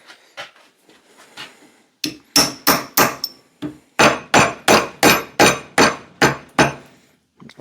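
Hammer blows drive out the handle of a Connecticut pattern axe, its head held in a vise. A few light taps come first, then a steady run of loud, sharp, ringing metallic strikes at an even rhythm, close up and with no talk.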